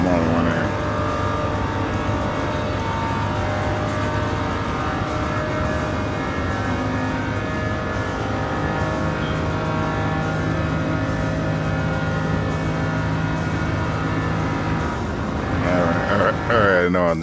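Gran Turismo 7 car cruising aimlessly in PS VR2, a steady droning engine note with layered harmonic hum held at constant loudness throughout, with no sharp changes in pace.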